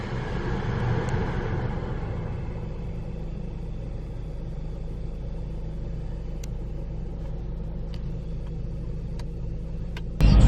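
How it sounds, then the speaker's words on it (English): A car engine rumbles steadily and close, a continuous low drone lasting several seconds with no talk, ending in a sudden louder bump. "That's the car, guys."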